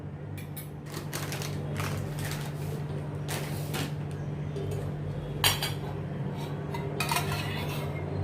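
A spoon scrapes and clinks against a bowl while mixing flour and refined oil into a paste. The taps and clatters come in irregular bursts over a low, steady hum.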